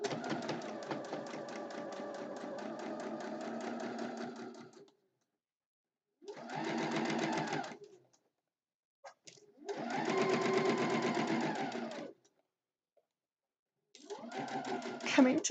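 A sewing machine stitches a quilt made from upcycled old napkins, running in steady whirring bursts of a few seconds each, separated by short pauses, close and moderately quiet.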